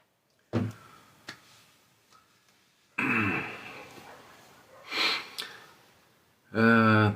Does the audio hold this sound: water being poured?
no